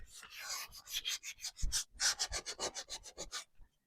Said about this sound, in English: So I'm just going to go in, just sand it a little bit.